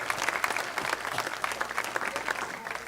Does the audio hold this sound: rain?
no